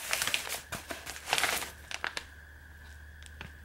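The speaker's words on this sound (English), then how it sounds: "I'm going to open Irene from Scotland's envelope." A mailed envelope from Scotland is torn and crinkled open, paper rustling in quick bursts of crackle and rip, close and fairly quiet, trailing off into softer handling.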